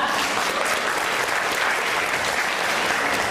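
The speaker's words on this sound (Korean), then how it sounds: "큰 박수 부탁드리겠습니다" Big applause from the audience at a Korean mobile service presentation, a thick, even roar of many hands clapping at a constant level throughout, with no voices breaking through.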